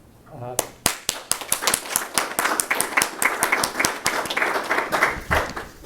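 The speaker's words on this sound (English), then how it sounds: "So let's give them applause." Lecture hall audience at an engineering science lecture claps for the speakers, a few separate sharp claps building into steady, moderately loud applause that carries through to the end.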